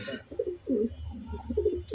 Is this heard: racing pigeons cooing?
yes